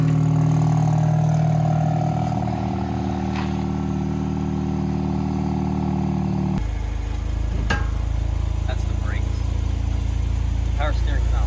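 A Mazda RX8 rotary engine idles roughly just after being deflooded, a loud steady running drone with a sudden shift in tone partway through, and someone talks over it.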